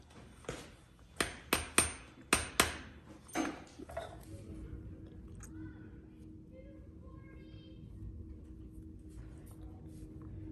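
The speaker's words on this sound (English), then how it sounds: "A hammer just to try to evenly tap it down." A hammer taps a bearing race down onto a new bicycle fork during a Huffy Scout 26-inch mountain bike upgrade, giving about seven sharp, close metallic strikes in quick uneven rhythm, then fading into low background hum.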